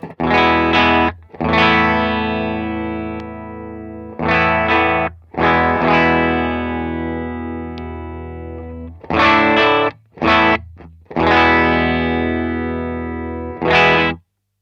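Electric guitar run through an all-analog boutique pedalboard, its always-on buffer switched on and off between phrases: loud, distorted, chorus-tinged chords ring out in repeated bursts with short gaps, no talking.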